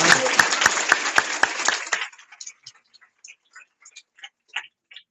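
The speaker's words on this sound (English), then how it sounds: "if you give a round of applause." Applause at a university club's monthly meeting: a short burst of clapping from a small group, fairly close, lasting about two seconds before fading into scattered individual claps.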